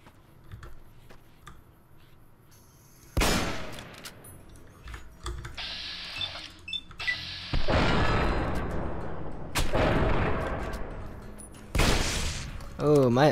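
Gunfire in the modded video game Fallout New Vegas, with sharp loud shots and rapid bursts, some ringing out in longer volleys among quieter clicks, alongside a voice.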